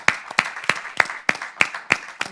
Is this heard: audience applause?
yes